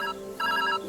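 An old payphone rings inside the video game Viewfinder, with two bright electronic ring bursts separated by a short gap, close and clear with no talk.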